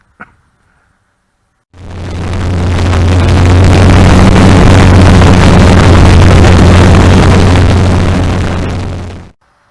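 An XK X-380 quadcopter drone's motors start up after a brief click, swelling into a loud, steady, close buzzing whine that holds for several seconds before cutting off abruptly.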